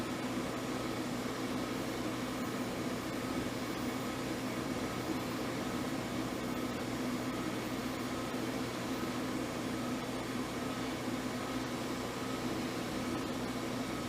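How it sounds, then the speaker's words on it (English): Steady roaring hiss of a glassworking torch flame heating glass, continuous and even throughout with no breaks. "So slowly heating in the far flame."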